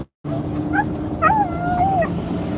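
A dog whimpers and whines inside a car, a thin high-pitched whine rising and falling over steady low road rumble, close and fairly loud, with no talking.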